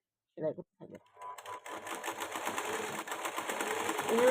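After a few words of speech, an electric sewing machine stitches a zipper onto a kameez, its rapid mechanical whirr starting up and running steadily close by, getting louder toward the end.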